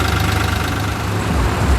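A tractor engine runs steadily nearby at a low, throbbing rumble, continuous and fairly loud, with a chugging pulse and no voices over it.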